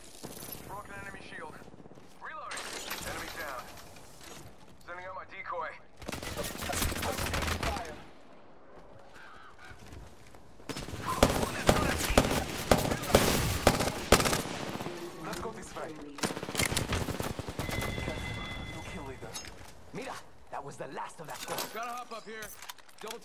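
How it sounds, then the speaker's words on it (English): Bursts of gunfire in the battle-royale game Apex Legends, loud rapid volleys coming in several clusters, with game sounds and a player's voice talking between them. "They're shooting at me."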